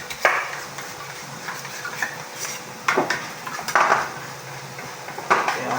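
A spoon clinks and scrapes against a metal pot while a cooking mixture is stirred, giving several sharp irregular taps and scrapes over a soft background, with no talking.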